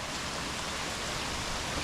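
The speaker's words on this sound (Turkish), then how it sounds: "şu anda bayağı şiddetli bir yağmur var" Heavy rain pours down steadily outdoors before an American football game, a dense, even wash of noise with no voices, loud and constant throughout.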